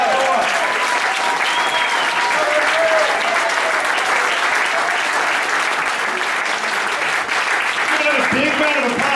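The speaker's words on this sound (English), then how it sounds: "Big round of applause for Andrew." Sustained applause from a large political event audience fills the whole span, loud and dense, with some shouts and voices mixed in toward the end.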